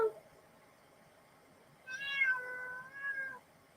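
A pet cat gives one drawn-out, wavering meow, close but quiet, after a stretch of near silence.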